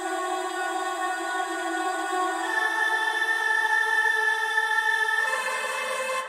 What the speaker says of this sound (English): we had these granular vocal bits.